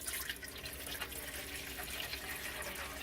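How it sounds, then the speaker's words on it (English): Water pours into the water container of a DeLonghi espresso machine, a steady splashing, gurgling stream that runs without a break and without any voices. "The only thing that we have to do is to fill up the water container."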